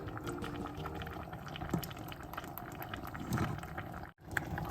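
Thai sour curry (kaeng som) with fermented fish sauce simmers in a pot, a steady low bubbling wash with soft pops running throughout, close and moderately quiet with no talk.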